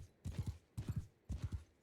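Hooves of an armored horse gallop in Mount & Blade 2 Bannerlord, a close, soft thudding in three quick bursts of rapid beats separated by brief pauses, with no talk.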